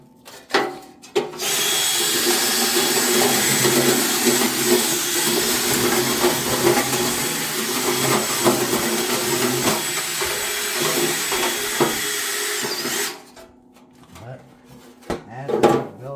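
A spinning dryer vent cleaning brush whirs steadily inside the vent for about eleven seconds, with scraping and rattling underneath, then cuts off, leaving scattered clunks and light knocks.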